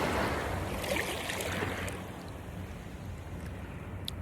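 Seawater sloshes and splashes around someone wading knee-deep, a steady close wash of churning water that eases off before a sudden sharp splash at the end.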